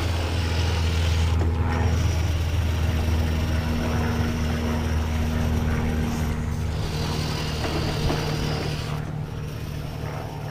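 A 6x6 radio-controlled recovery truck drives continuously nearby, its small motor giving a steady low drone with a constant hum, no one talking over it.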